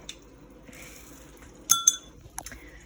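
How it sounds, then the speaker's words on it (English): A lid set loosely on a glass jar of sourdough starter, two sharp clinks of glass close together, followed by a fainter tap and soft handling sounds in a quiet room. "you sit the lid on. You don't screw the lid on."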